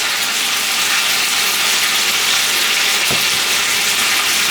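Tomatoes fry in a hot pan in a Chinese vegetarian dish, a loud, steady, dense sizzle that stays constant throughout, with one brief soft knock partway through.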